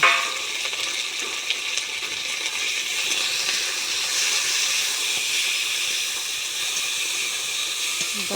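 Onion sizzles in hot oil with bay leaf, green chili, five-spice and river snails, a steady close hiss and crackle of frying that stays constant throughout with no talk.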